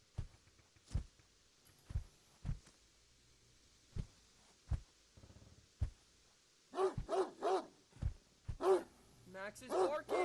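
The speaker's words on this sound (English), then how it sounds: "Max is barking!" The dog Max barks in the video game Greyhill Incident, first as spaced single barks heard a little way off, then as a loud, rapid run of barking close by, with a voice speaking in between.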